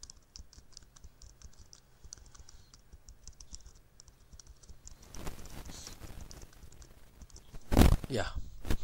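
Quick, light keyboard clicks while typing dots into spreadsheet cells on a computer, followed by scratchy handling noise and a louder bump, all faint and close.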